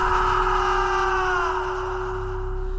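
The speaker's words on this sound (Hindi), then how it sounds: "और अगले ही पल मोहित की चीख पूरे गांव में गूंजी।" A scream sound effect in a Hindi horror story narration, a loud sustained wailing cry with a steady droning tone beneath it, slowly sliding downward and fading.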